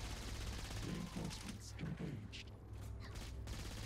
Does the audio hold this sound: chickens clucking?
no